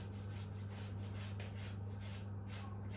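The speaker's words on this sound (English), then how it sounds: "So I boiled the potatoes earlier on, so it's nice and cool. And just grating it now." Boiled, cooled potatoes rubbed against a grater into a mixing bowl, a close, quiet rhythmic scraping over a low steady hum.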